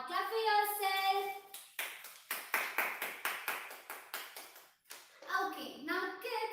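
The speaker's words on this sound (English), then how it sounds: "Now clap for yourself." Children clap together during a live Grade 1 class, a run of sharp, rapid claps lasting a few seconds, framed by a voice speaking before and after.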